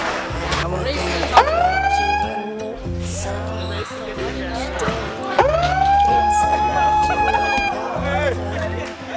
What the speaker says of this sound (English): Damn, y'all just hear sirens and start running.